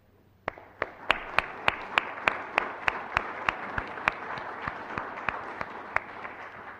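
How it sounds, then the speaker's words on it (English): Audience at a city council meeting applauding the fire chief and fire department, sharp individual claps in a steady, evenly spaced rhythm over a soft background of scattered clapping, fairly close and moderately loud. "I think we all deserve a big round of applause for the chief and the fire department again."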